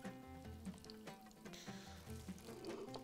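Bahraini dough frying in a pan, a soft continuous sizzle under faint clinking and stirring noises, quiet and close with no talking.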